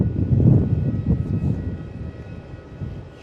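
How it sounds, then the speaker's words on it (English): A Jetstar Airbus A320 comes in to land at Melbourne Airport, heard as a steady low engine rumble with faint high whine, loudest early then gradually fading, with no talk over it. "We're going to watch this plane come in for landing first."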